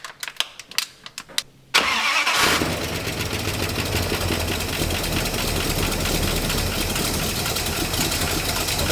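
A 1958 Plymouth barn find, unrun for about a year, cranks with a series of uneven starter chugs, then catches and settles into a loud, steady, slightly rattly idle that runs on to the end.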